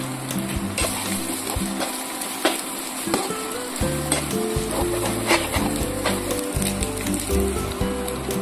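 Washed chicken pieces frying with ginger, turmeric and spices in a pan for gongura chicken curry, a steady loud sizzle broken by repeated scraping stirs of a spoon against the pan, close and without speech.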